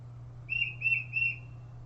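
An eastern US forest bird, the kind that visits backyard sunflower seed feeders, sings three clear whistled two-part notes, 'Peter, Peter, Peter', evenly spaced over a low steady hum, moderately loud and fairly near.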